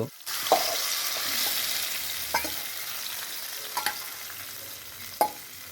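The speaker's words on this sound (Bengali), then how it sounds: "মা মেরিনেট করা খাসির মাংস কড়াইতে এই গরম তেলের মধ্যেই ছেড়ে দিল" Marinated goat meat for a clay-pot biryani dropped into hot oil in a wok, giving a steady broad sizzle broken by a few sharp clinks and scrapes of a stirring utensil.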